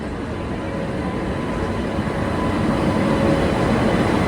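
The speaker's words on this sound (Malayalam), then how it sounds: "ഗതിമാൻ എക്സ്പ്രസ് ഇതാ പ്ലാറ്റ്ഫോം നമ്പർ 4ലേക്ക് കടന്നു വരികയാണ്." Gatimaan Express, train number 12050, hauled by a WAP5 electric locomotive, rolls into platform 4 at Ghaziabad with a steady, loud rumble that builds slightly toward the end. No voices are heard.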